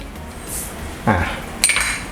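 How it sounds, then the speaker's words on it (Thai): A pestle pounds white pepper and coriander seeds in a mortar, giving two distinct close knocks with a hard, clinking ring, with quiet room tone between them and no speech. "พริกไทยนะครับเมล็ดผักชีกับพริกไทยโขลกก่อนเนาะ"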